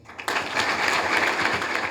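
An audience applauds the president during an official visit to a school, a dense, even wash of clapping that starts abruptly and continues steadily, moderately close.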